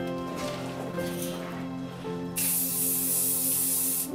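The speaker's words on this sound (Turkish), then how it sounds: "Biraz da sprey sıkayım da nikaha kadar dalgaları inmesin aşağı." Hairspray hisses from an aerosol can onto freshly styled wavy hair before a wedding ceremony: one steady, close, bright spray lasting about two seconds after a stretch of soft indoor background sound.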